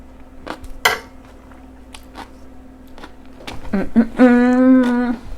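Thanksgiving stuffing with roasted vegetables, cauliflower and whole garlic cloves being stirred, with a few scraping clinks of a utensil against the dish, then a louder humming tone toward the end.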